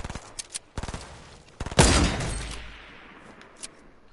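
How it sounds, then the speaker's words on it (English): Video game sniper rifle gunfire: a few sharp, loud shots in separate bursts, ending in one heavy blast that rings out and decays over about two seconds. "Yeah, I just sniped you"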